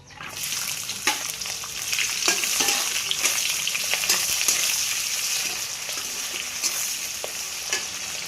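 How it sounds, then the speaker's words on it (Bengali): Chopped onions and a few garlic cloves fry in hot oil, producing a steady bright sizzle throughout, with occasional light stirring clicks; moderately close, no talking. "এখন দিয়ে দিচ্ছি আমি কুচনো পেঁয়াজ আর দিয়েছি গোটা কয়েকটা রসুন।"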